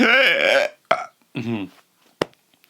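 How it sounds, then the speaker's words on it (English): A person's hiccups come as a few sharp, voiced gulping bursts at close range, some drawn out and croaky, separated by short pauses, with a final quick click. "you just bore witness to my strange hiccups"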